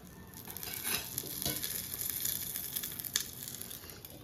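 Ghee poured onto gas-heated charcoal set inside a pot of chicken biryani gives a faint, steady crackling sizzle, with a few sharper pops rising briefly above the hiss.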